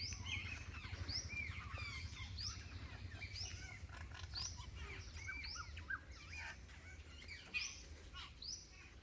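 Many birds, Indian babblers among them, call and chirp on a chilly winter morning. Dense overlapping tweets and chatter come from several directions at moderate distance, over a low steady rumble.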